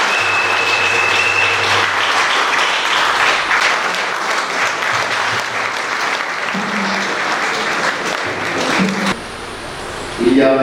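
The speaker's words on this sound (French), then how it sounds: "Applaudissez pour le Père." A church crowd at a priest's silver jubilee Mass in a Senegalese village applauds loudly and continuously for the priest, with voices mixed in, before the clapping cuts off near the end.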